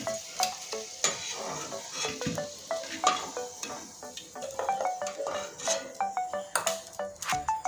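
Potato pieces frying in a pan until reddish-brown, with steady sizzling and repeated sharp scrapes and clinks of a spatula stirring against the metal, close and fairly loud throughout.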